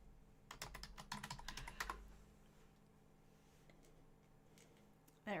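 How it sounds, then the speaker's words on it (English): Rapid keystrokes on a computer keyboard come in a quick burst at the start, then give way to a quiet pause. A single sharp click lands near the end. "I can't type and talk at the same time."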